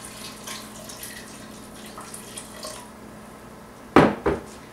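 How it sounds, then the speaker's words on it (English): Filtered water splashing into a soup pot in a kitchen, a low trickle with light clinks at first, then two loud, close bursts of pouring near the end. "I'm going to add in about 4 cups of filtered water."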